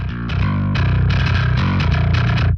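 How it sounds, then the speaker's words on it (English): Heavily distorted bass guitar riff through a Bogren Digital BassKnob STD distortion plugin, thick and saturated with a buzzy, gritty edge, playing continuous notes up close with no voices. "We're starting to get a lot of distortion, starting to lose a little bit of the tone"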